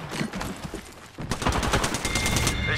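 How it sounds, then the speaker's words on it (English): Rapid automatic enemy gunfire in Apex Legends, a steady stream of close, loud rounds that briefly eases before a heavier, denser volley resumes. "They're shooting at me."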